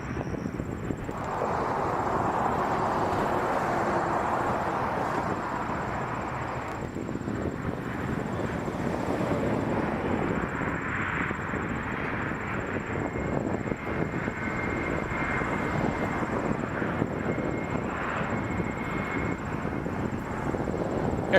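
An Air Canada A321 airliner at Toronto Pearson airport, its steady jet engine roar loud and continuous throughout, rising slightly mid-way, with no speech over it.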